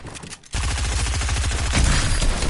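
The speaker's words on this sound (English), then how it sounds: "he has a shotgun" Shotgun fire in the Fortnite video game: a short quiet gap, then a sudden sustained barrage of loud, rapidly pulsing blasts that keeps going steadily for about two seconds, dense and close, with no speech.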